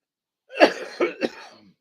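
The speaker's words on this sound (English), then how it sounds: "I still can't get rid of the cough." A person coughs three times in quick succession, close and fairly loud, the first cough the strongest, then a brief raspy trailing breath.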